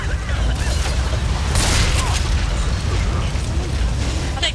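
Shotgun blasts in the zombie shooter Left 4 Dead 2, booming bursts over a dense, continuous wash of game noise, with players talking throughout.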